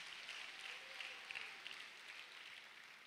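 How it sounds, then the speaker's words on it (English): A church congregation claps together in sustained, steady applause, a dense wash of hand claps heard at a distance without talk. "Let's also give a clap offering to yourself"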